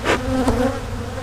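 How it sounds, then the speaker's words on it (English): Agitated honey bees swarm around a rescued hive set beside boxes, their continuous close buzzing loud and steady with a brief rise partway through. "So, the bees are pretty upset"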